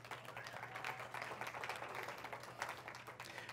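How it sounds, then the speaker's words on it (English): A sermon congregation applauds in a soft, continuous patter of many hands that sounds somewhat distant and lasts for several seconds. "some of you applaud because you're like, that's an accomplishment"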